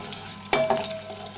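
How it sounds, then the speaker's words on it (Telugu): Black gram, fenugreek seeds and cumin fry in oil for a bottle gourd pulusu, a short burst of crackling sizzle with a quick stir or scrape partway through, close and fairly loud. "మినప్పప్పు అండి, కొంచెం మెంతులు వేసి వేగాలండి"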